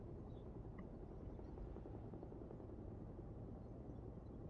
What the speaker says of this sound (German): Der Boss schickt seinen privaten Helikopter, um einen Agenten abzuholen.